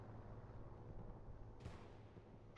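Aircraft strafing run in Hell Let Loose, a WWII shooter battle at Carentan train station: a dense, continuous rumble of gunfire and distant blasts, with a sharper burst of fire breaking through near the middle.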